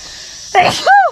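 A single sharp sneeze bursts out close by, a quick inhale followed by an abrupt explosive release.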